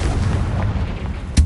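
A Confringo fire spell in the Hogwarts Legacy video game: a dense, low booming rumble rolls on steadily, then a sharp, punchy blast hits near the end, loud and close with no talking.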